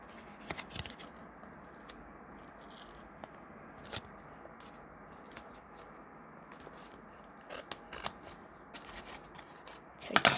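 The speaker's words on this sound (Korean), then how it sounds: "선 없는 대로 자르겠습니다." Scissors cutting through a taped card package, with scattered sharp snips and crunchy scrapes of plastic and tape, quiet and close, and a louder burst of snipping and crinkling at the end.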